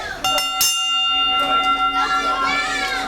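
A wrestling ring bell clangs out several sharp strikes at an indie match, its bright tones ringing on over a noisy crowd of chattering and shouting voices.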